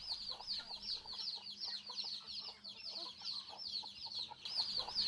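Backyard chickens kept by a village family in Odisha cluck and chatter repeatedly, a quiet flock heard at moderate distance with soft, irregular calls overlapping.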